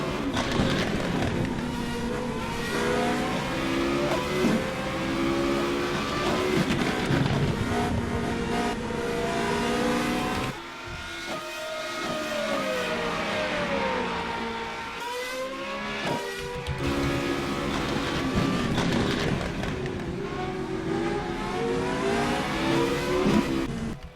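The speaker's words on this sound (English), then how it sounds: "Everybody's really struggling to overtake at the moment, and McLaren has a little look at Cutler." Formula Renault race cars racing at Donington, engines revving and shifting up and down in pitch as they pass, loud and continuous with brief lulls between cars.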